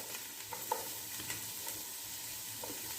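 Carrots for chicken soup sizzle steadily in a hot pan with oil, sometimes stirred. The frying hiss is soft and constant, with faint scraping taps throughout and no talk.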